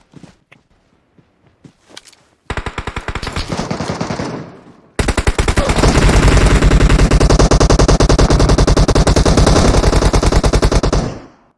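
Rapid automatic gunfire in an online shooter video game, first scattered shots and footsteps, then dense sustained bursts that grow louder and continuous until the end, no talk over it.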